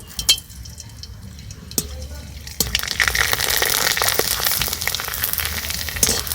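Homemade cornflour papad hits hot oil in a wok. After a quieter start with a few clinks, a loud, crackling sizzle erupts and continues densely and close up, with brief scattered pops.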